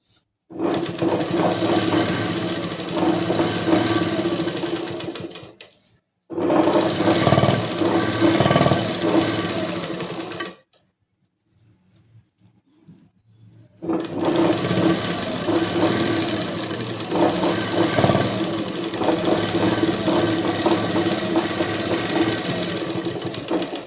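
A sewing machine stitches along a kurti collar in three long, steady runs of rapid mechanical chatter, broken by one near-silent pause while the fabric is turned.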